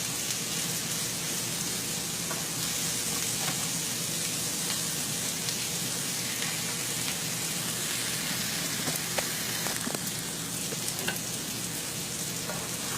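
Sausage sizzles steadily in a pan for a sausage and orzo risotto, a dense, continuous crackle and spatter heard close up with no talking, broken only by occasional sharper pops.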